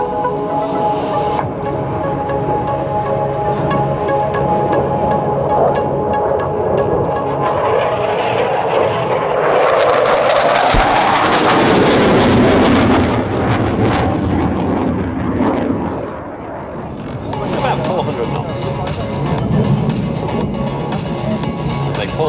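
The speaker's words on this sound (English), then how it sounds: "The Super Hornets will be coming in and carrying out a move called the pop." F/A-18F Super Hornet fighter jets at the Australian International Airshow performing a pop attack manoeuvre, jet roar swelling from a distant rumble to a loud close pass midway, then fading under gusty wind noise.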